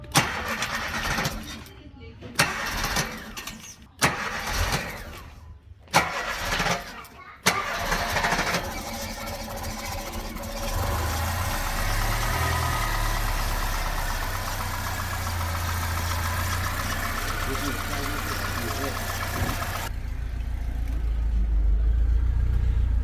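A car engine after a gearbox installation, with a few stop-start cranking bursts and voices early on, then catching and settling into a steady, low, rumbling idle that continues to the end.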